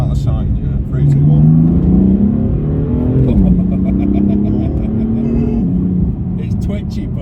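BMW M4 accelerating hard from a standing launch, a loud close engine drone from inside the car rising in pitch through the revs, dipping briefly at a gear change and then climbing again, with no speech over it.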